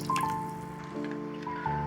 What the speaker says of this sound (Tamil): இப்போ இதில் வந்து தேவையான அளவு தண்ணி ஊற்றிக்கலாம்.